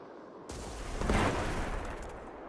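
A grenade is tossed and bursts in Destiny 2, a loud broadband blast with a sustained rumbling tail that stays up for a couple of seconds, no voices.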